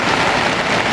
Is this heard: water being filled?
no